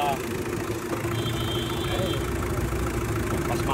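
Toyota Revo engine idling with its air-con compressor running, a close, steady mechanical drone and rattle with the compressor's pump showing signs of malfunction, while people talk over it.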